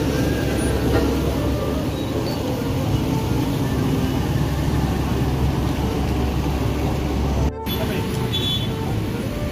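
A large tour bus engine rumbles steadily up close as it departs, with traffic noise and voices around it, briefly cut off near the end.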